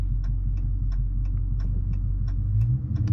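A 2022 Dodge Charger Scat Pack idles while warming up, its deep steady engine rumble close and continuous, dotted with regular light ticking clicks roughly every third of a second, the rumble thickening briefly near the end.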